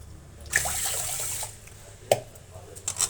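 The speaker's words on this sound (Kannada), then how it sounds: "ಈಗ ನಾವು ನೀರನ್ನು ಸ್ವಲ್ಪ ಹಾಕಿ ಅದನ್ನು ನೆನೆಸೋಣ." Water pours into a vessel of washed rice and urad dal to soak, giving a short splashing gush, then trickles and a couple of brief splashes, close by and without talk.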